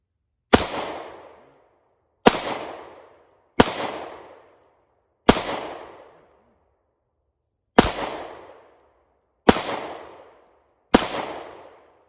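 Seven sharp handgun shots from a Springfield Hellcat or Taurus GX4 crack loudly and close at irregular intervals, each a sudden blast decaying quickly into silence, with no talking between them.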